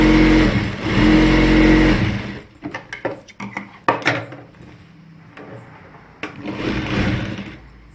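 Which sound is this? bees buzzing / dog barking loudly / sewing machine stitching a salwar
sewing machine stitching a salwar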